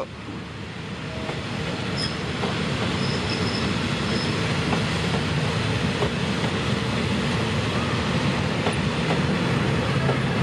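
A train rolls steadily through Bang Sue station in Thailand, its loud continuous rumble mixed with rail clatter and faint wheel squeal throughout.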